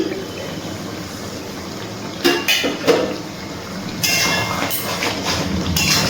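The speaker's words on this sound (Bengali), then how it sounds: "একটু নাড়াচাড়া করে নিচ্ছি।" Potato and ridge gourd are stirred in a pan over a low gas flame, with bursts of scraping and clattering against the metal. The sound comes in short clusters after a quiet stretch, then turns to a longer, steadier scrape, close by and with no talking.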